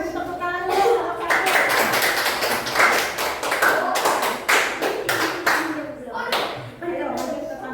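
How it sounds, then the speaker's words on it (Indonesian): Classroom applause for group 1 during a maths lesson, a burst of many hands clapping that builds and carries on for several seconds, with a teacher's voice speaking over it. "Beri tepuk tangan dulu."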